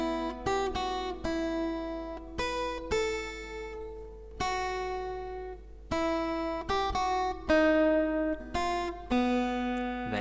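Fingerstyle acoustic guitar plucks the opening line of the Harry Potter theme, single notes picked one after another in an unhurried rhythm with ringing sustain, played close and alone with no voices.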